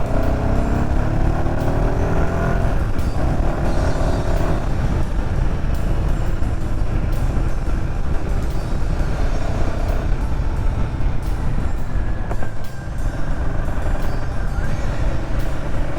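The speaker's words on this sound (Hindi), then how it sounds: "ये थर्ड गियर से एक्सेलरेशन है।" A Royal Enfield Himalayan 450 adventure motorcycle pulls hard in third gear, its engine droning loud and steady with wind rush, heard up close from the rider's position.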